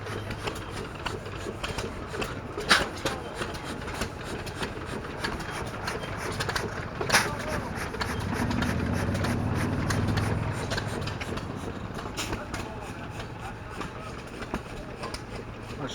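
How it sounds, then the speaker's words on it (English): Antique gas engines idle at a tri-state engine show in Portland, Indiana, a low steady rumble with occasional louder pops, heard from a short distance amid outdoor ambience. "Have all them engines running."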